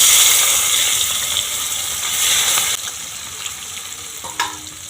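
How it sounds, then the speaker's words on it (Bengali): Chopped onions frying in hot oil in a fish-cooking pan, a steady bright sizzle with some stirring, loudest at first and then easing off a little toward the end, no talking. "তেলের মধ্যে দিয়ে দেবো পেঁয়াজ কুচানো"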